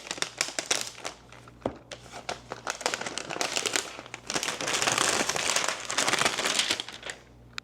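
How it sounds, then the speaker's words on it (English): Protective plastic seal peeled off a new Zephyrus G14 laptop, a loud continuous crinkling and crackling that swells and crackles more densely midway, close up with no talk. "I'm gonna go ahead and peel back this seal."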